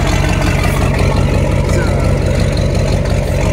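A truck engine with a straight pipe exhaust idles in a loud, continuous low rumble, with a steady throbbing rhythm and someone talking over it.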